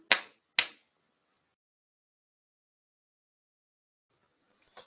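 Hands clap for a children's clapping song, loud and close. Two sharp claps come in quick succession, then a long silence before a third, softer clap.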